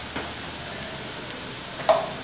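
Onion, garlic and ginger frying in a pan give a soft, steady sizzle throughout, with a brief louder clink or scrape near the end.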